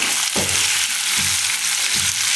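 Sweet potato slices cooking in a pan, seasoned with rock salt: a steady, close frying sizzle with soft stirring scrapes recurring about three times.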